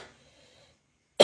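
A single sharp cough bursts out after a near-silent pause, preceded by faint fading background tones.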